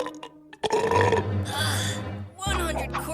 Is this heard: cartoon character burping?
yes